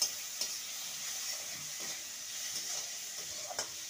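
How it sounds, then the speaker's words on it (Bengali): Potatoes with turmeric powder frying in a pan give a steady, moderate sizzle, broken by a few soft scrapes as they are stirred. "ভালো করে নেড়ে নেব।"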